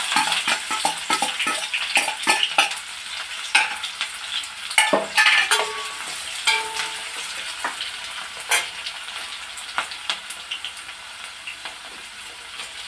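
Onion sizzling in about a cup of hot oil in a pan, a steady loud crackling hiss with repeated scrapes and knocks of a utensil stirring, close up, with no voices.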